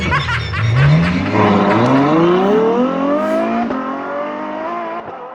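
A bright blue 2023 BMW M2 accelerates hard nearby, its engine note climbing steadily in pitch over several seconds, loud and close, then easing off toward the end with no talking over it.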